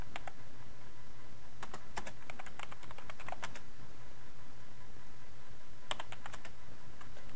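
Computer keyboard keys clatter in quick bursts of crisp clicks while JavaScript form-validation code is typed, with a long pause mid-way before another short flurry, close and clear against a faint steady hum.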